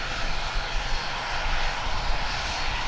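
An ATR 72 turboprop airliner bound for Auckland, heard at Tauranga airport, gives a steady, fairly loud broadband engine roar that holds for about three seconds with no talk over it.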